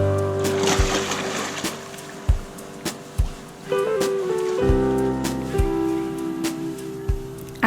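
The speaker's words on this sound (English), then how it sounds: "After a nice swim, the rain came in." Rain patters steadily on a surface near a hostel by Iguazú Falls in Brazil. Sharp thumps and a faint tonal hum sit underneath the rain.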